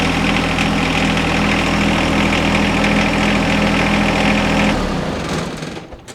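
A John Deere 1025R compact tractor engine runs steadily at close range, a loud, even idle rumble that drops away near the end as it cuts off.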